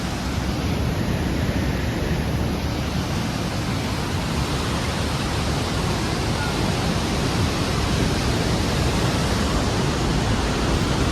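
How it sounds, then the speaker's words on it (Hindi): A mountain waterfall near Mana village in the Himalayas pours steadily, a loud, broad, unbroken rushing roar of water close by, with no voices. "ये पानी का झरना"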